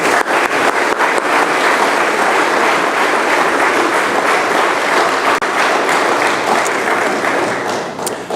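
Sustained, dense applause from a lecture audience at King University welcomes speaker Philip Jenkins, loud and steady throughout before tapering slightly at the end.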